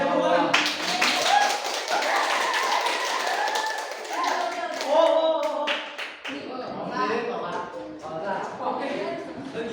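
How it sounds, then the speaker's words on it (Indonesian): A classroom of students claps in a dense burst of hand taps, quick and uneven, tapering off near the end while voices carry over it. "Beri tepuk tangan."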